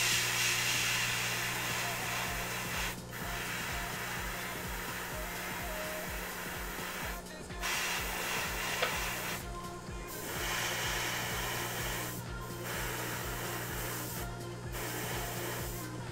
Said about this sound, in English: so I'm just spraying down at the top.